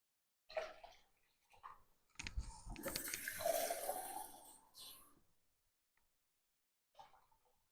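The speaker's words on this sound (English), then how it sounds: "I think I'm going to add some more water" Tap water running into a home-brewing pot on a honey tripel brew day, a close steady rush lasting about three seconds, with soft clunks just before and after.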